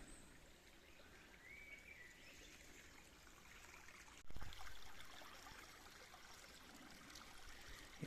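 Small forest stream in a valley, still running in early summer, gives a steady soft trickle and burble throughout, with faint bird calls and a brief low thump partway through.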